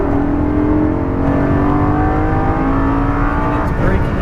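An exotic sports car on a race track accelerates at full power, its engine roaring loudly and steadily with a rising pitch; a voice talks over the engine noise.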